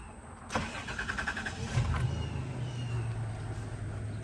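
A 2001 Toyota Tacoma V6 is started. A short starter crank catches, and the engine settles into a low steady idle. It is close but fairly quiet, with no voices.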